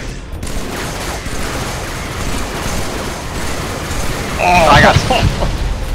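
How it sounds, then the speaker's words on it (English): Grenade blasts and gunfire in a Halo 3 campaign firefight: a dense, continuous rattle of shots and explosions, swelling louder near the end, with excited voices talking over it. "That's a lot of grenades."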